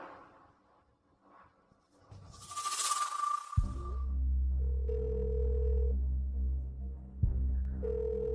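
A telephone rings in an indoor office drama scene, a sustained electronic tone that cuts in abruptly and repeats in steady bursts, fairly loud and alone with no talk over it.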